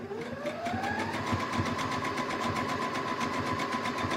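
A sewing machine stitching fabric for a pillowcase, its motor whirring up to speed and then running steadily with a rapid rhythmic needle chatter, close and continuous.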